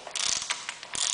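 Ratcheting clicks from a torque wrench and socket tightening a bolt during an electric vehicle conversion, a quick close burst of mechanical clicks with short pauses between strokes, no talking.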